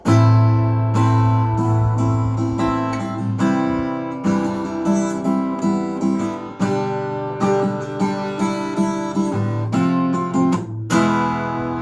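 Rhythmic guitar strumming of steady chords, a repeated strum pattern with sharp attacks, played alone and close up.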